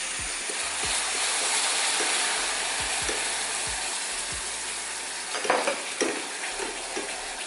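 A sugar and orange juice sauce for candied yams bubbles and boils steadily in a pot, giving a continuous close hiss with scattered soft pops and no talking.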